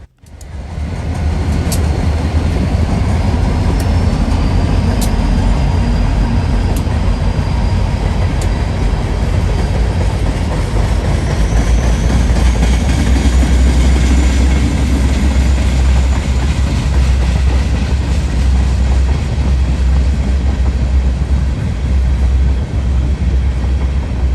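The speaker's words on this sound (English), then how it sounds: "an INO southbound with an Ohio Central SD40-2 leading two Union Pacific SD60Ms, the third one being a Triclops unit." Southbound freight led by an Ohio Central SD40-2 with two Union Pacific SD60M diesels, one a Triclops unit, rolling past loud and close, a constant heavy engine drone and wheel rumble with occasional sharp squeals.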